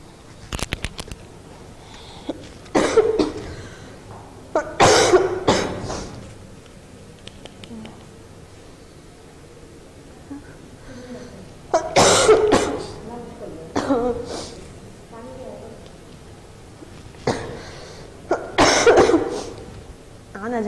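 Repeated bursts of coughing and throat clearing, fairly close, recurring every few seconds across the stretch with quiet gaps between the fits.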